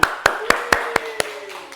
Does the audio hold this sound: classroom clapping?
yes